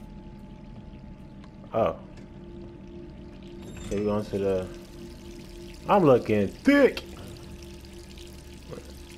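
Tap water runs steadily in the Resident Evil 3 video game, a low continuous wash underneath a man's short bursts of talk.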